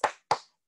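Two sharp hand claps ring out in quick succession, close and crisp, each fading within a fraction of a second, with silence between and after.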